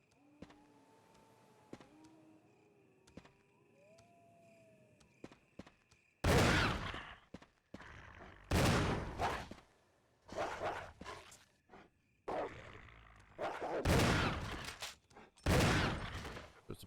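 Pistol gunfire in Resident Evil Remake, a quiet stretch of faint tones and small clicks followed by about six loud, widely spaced shots with echoing tails.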